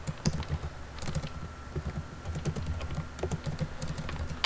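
Java code being typed on a computer keyboard, with rapid uneven key clicks running steadily from start to finish at close range and no voices.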